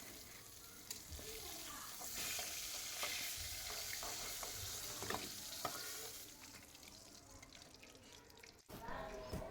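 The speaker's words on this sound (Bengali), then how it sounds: "খুব সুন্দরভাবে দুনো সাইড ভেজে নিব আর কি। তো মাছটা ভাজা হয়ে গেছে" Fish frying in oil in a pan for a spicy bhuna, a steady sizzle with stirring and occasional clinks, fairly faint throughout with a brief drop near the end.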